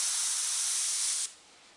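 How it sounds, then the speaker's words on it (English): Spray bottle misting through a stretched dryer sheet: one steady, close hiss lasting just over a second, then cutting off to quiet. "I'll spray up here so you can see a little bit."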